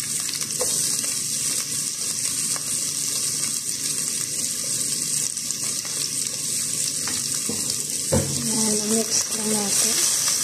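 Onion dropped into a pan where garlic has fried golden brown, setting off a loud, steady sizzle close by, with stirring and a sharp burst as the onion hits the oil, while a voice speaks over it.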